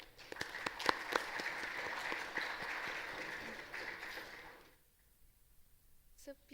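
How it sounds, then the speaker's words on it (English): Audience applause at an academic workshop on intellectual property rights, a dense patter of clapping that fills the hall for several seconds, then fades out, leaving near silence. "Please give a round of applause for Sir."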